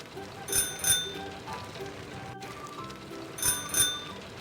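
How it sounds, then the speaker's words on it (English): A bicycle bell rings in two separate bursts, each a quick pair of bright metallic dings, with quieter background noise between them. "bicycle"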